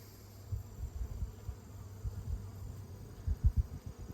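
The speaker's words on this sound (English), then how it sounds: "Look at all them bees. They are thick." Low, dense buzzing of many honey bees close by, with a steady hum and louder swells as individual bees pass near.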